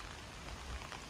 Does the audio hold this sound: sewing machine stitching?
no